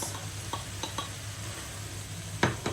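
Peppers tossed into a pan for a vegetable paper kebab fry with a soft, steady sizzle, while a spoon scrapes and knocks against the pan now and then, close by.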